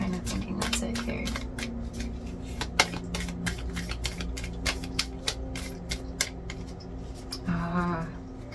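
A deck of tarot cards is shuffled in a long run of quick, crisp riffling flicks and slaps, close and fairly steady, with a softer rustle near the end.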